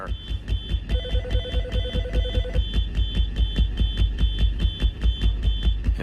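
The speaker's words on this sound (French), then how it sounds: "Et il a arrêté l'alarme." A fire alarm rings in a maintenance workshop, a steady rapid electronic beeping pulse repeating evenly throughout with a second tone joining briefly, loud and alone without talk.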